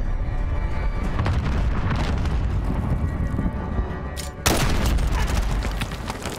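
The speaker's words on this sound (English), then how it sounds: "Allied cruise missile launched" Cruise missile strikes in the Modern Warfare video game, continuous rumbling blasts and distant gunfire that build to a sharp, loud explosion near the end and then a roaring aftermath.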